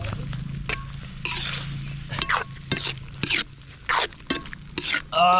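Adobo with coconut milk and bamboo shoots cooking outdoors: a steady sizzle and bubbling from the pan, broken by repeated scraping strokes of a stirring utensil, while people talk nearby.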